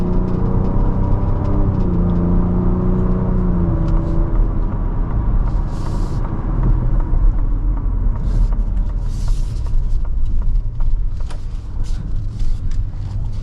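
A 2024 Ford Ranger Raptor on its first drive, heard from inside the cab as a steady low engine and road drone with some whir, a few faint clicks and rattles over it, no voices.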